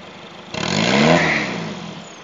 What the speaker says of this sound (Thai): เบิ้ลเลยครับ